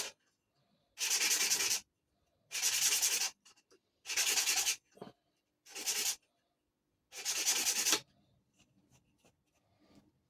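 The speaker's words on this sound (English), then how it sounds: "I then cool it down, and then I rub the faces" Handmade bodkin crossbow bolt tips having their faces rubbed, five separate bursts of close, harsh rasping about a second each, divided by quiet gaps, with no talking.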